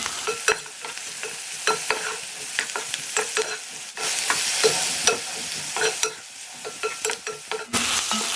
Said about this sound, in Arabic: فانا هحط الفلفل مع البصل دلوقتي